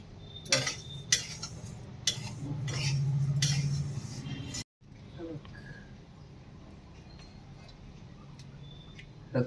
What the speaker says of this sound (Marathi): आता तूप टाकून लापशी भाजून घेते